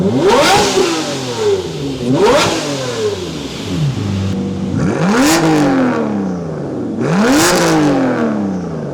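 A Lamborghini Murcielago or Aston Martin Vanquish engine is revved hard several times, each loud, close blip rising sharply then falling away, with brief idle between the pulls.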